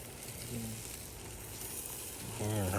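Oil and ketchup barbecue sauce sizzles steadily in a pan as it is stirred, a continuous frying hiss with soft scraping that swells louder near the end, while a voice talks briefly.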